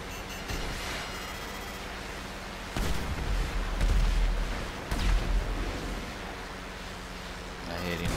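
Heavy gunfire and booming blasts from an aircraft in a video game, with dense continuous rumble punctuated by several loud thudding bursts, while voices talk over the din.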